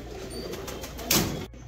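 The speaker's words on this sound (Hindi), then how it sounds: "तो बस अब अपन कर देते हैं अपने सभी कबूतरों को बंद" Pigeons coo softly in a loft over low background hum, with a brief flap or thump near the end of the short stretch.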